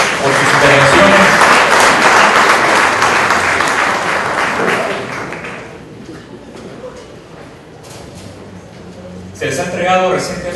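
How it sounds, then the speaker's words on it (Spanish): Audience applause for panelists at a Guatemalan panel forum on the Verapaces, loud clapping that fades over several seconds before a voice begins speaking near the end. "Un aplauso nuevamente para ellos por sus intervenciones."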